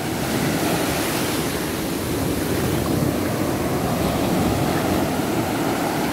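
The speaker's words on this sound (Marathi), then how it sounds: "या बघा या पूर्ण किनाऱ्या लगत येऊन फुटत आहेत लाटा" Sea waves break along the shore at Ganpatipule beach in a continuous, broad roar of surf that stays loud and steady throughout, with no voices.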